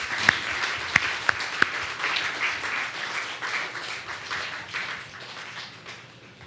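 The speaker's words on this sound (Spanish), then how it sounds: "Dale un aplauso al Señor y adoramos." Congregation applauding during a church worship service, a sustained crowd of clapping that runs throughout, with a few sharp, loud individual claps standing out near the beginning.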